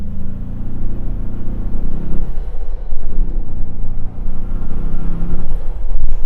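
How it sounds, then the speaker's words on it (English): Turbocharger whoosh and engine drone from a 2024 Ford Bronco Everglades, piped through its snorkel and heard from inside the cabin with the window open; a steady low rumble that swells and eases under acceleration, with no talking. "when I open the window, listen to these turbo noises"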